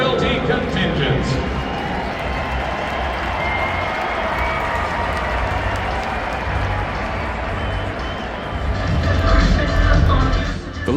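Stadium crowd at Chase Field in Phoenix applauding at a baseball game, a broad, steady wash of clapping and crowd noise that swells louder near the end.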